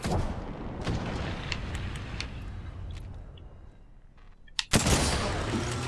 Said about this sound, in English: Well, let me shoot them.